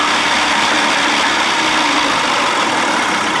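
A 55 hp Evinrude outboard motor runs continuously, giving a loud, steady, buzzing engine drone with no pauses.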